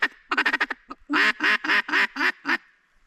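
A handheld duck call blown by mouth gives a quick run of short quacks followed by a series of louder, drawn-out, raspy quacks in a steady rhythm. The calls are close, clear and heard alone.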